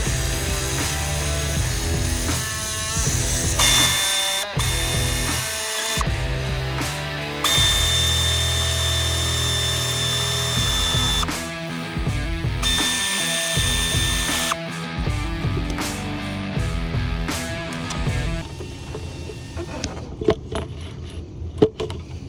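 Power tools and hand tools work the valve body bolts on a 2016 Buick Enclave's 6T70 transmission in the car, with a continuous drill-like whir, ratcheting clicks and metallic jangling across the whole stretch, loud and close, with no talk.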